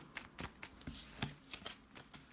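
A deck of tarot cards is shuffled by hand, giving a quiet series of soft riffling, slapping bursts in an irregular rhythm, close and alone.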